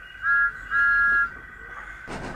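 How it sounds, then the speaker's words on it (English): Thomas the tank engine's steam whistle sounding from an engine arriving at Elsbridge Station, two clear sustained blasts, the second longer, over quiet station ambience, followed by a brief burst of steam. "While they waited, they heard a whistle."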